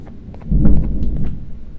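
Thunder in the video game Garten of Banban 2: a single low, rolling boom that swells and then fades, loud and close, with no speech.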